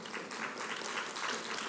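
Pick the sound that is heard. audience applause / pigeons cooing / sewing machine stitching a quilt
audience applause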